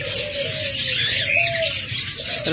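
A pair of pet finches offered for sale at a bird market calls steadily and fairly close, with bright high chirps and a lower cooing tone running throughout, and other birds can be heard behind them.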